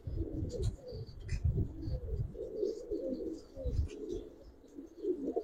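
Giribaz pigeons coo in a series of soft, low, throaty calls close by, with faint chirps from other birds scattered above them.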